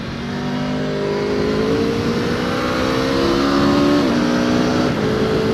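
A 2019 Aprilia Tuono V4 1100 Factory accelerates hard through the gears, its engine note climbing in rising harmonic sweeps and dropping briefly at each quick shift, loud and close throughout.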